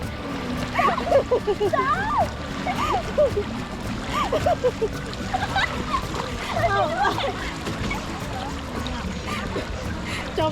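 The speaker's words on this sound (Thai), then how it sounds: "น้ำไหลแรงมาก" Fast river water rushes and splashes around a bamboo raft on the Mae Wang river, a constant close sloshing roar under excited talking and a voice.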